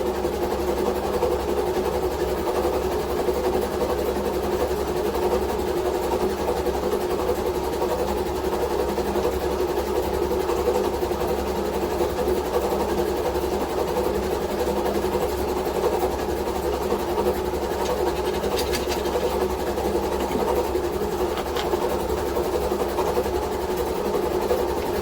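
A WW2-era generator engine runs steadily, a continuous mechanical drone with a constant hum and no change in pace, heard alone throughout.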